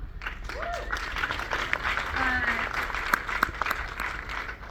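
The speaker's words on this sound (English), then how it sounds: "Round of applause, of course, for all the beautiful women here." Applause at an Italian film festival awards evening in Los Angeles, a moderate wash of clapping with a few sharp louder claps, accompanied by scattered cheers and whoops from the crowd.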